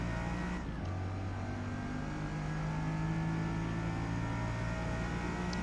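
A Bugatti Veyron in the Forza Motorsport video game runs at Le Mans, its engine note holding a steady drone with a slowly rising pitch, alone and without talk.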